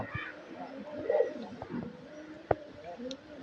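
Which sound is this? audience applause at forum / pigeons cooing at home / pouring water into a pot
pigeons cooing at home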